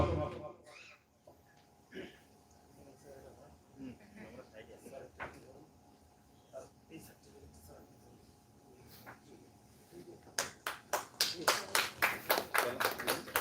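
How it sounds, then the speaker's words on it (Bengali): Audience at a district-level one-act drama competition prize distribution breaks into a loud, rhythmic burst of clapping near the end, following a stretch of quiet room murmur and faint voices. "আমরা একবার জোরে হাততালি"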